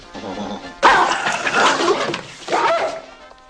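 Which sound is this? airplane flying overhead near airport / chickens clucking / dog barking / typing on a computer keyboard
dog barking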